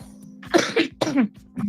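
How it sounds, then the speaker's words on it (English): A couple of close, throaty coughs in quick succession, fairly loud, with no talking. "I'm sorry if I cough, y'all."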